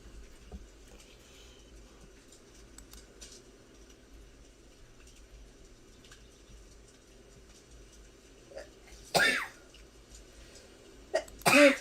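A quiet stretch of low background hum during a baseball live stream, then a sudden sharp sneeze near the end, followed by another brief loud burst.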